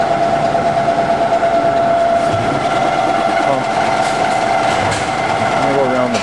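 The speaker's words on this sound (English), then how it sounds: "You know the vacuum pump works, and it's doing a fairly quick job of sucking all the air out of the" A vacuum pump on a brew furnace machine runs with a loud, continuous mechanical drone and a steady tonal hum, unbroken throughout and close to the listener.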